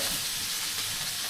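Oil frying in a pan with a screen over it, a dense, steady sizzle heard up close and continuous, with no talking.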